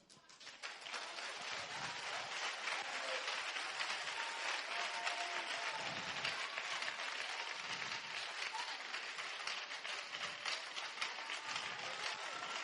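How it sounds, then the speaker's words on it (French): An audience applauds in a steady, dense wash of clapping that holds evenly throughout, with a voice faintly audible beneath it. "vous allez acclamer vos ennemis maintenant"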